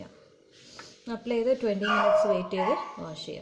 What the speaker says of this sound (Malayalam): പട്ടിക്കുട്ടി കരയുകയാണ്,